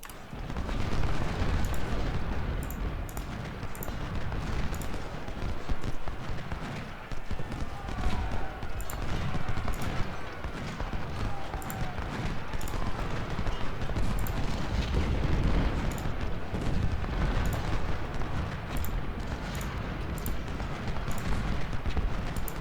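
Musket and artillery fire during a battle at Shiloh in Ultimate General: Civil War, a dense continuous rumble of distant volleys and booms with scattered sharp cracks, rolling on without pause.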